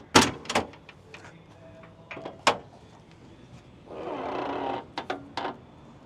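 The tailgate of a 1976 Chevy K5 Blazer restomod is worked open with a few sharp metallic clunks and latch clicks, then a short mechanical whir and more clicks, close up.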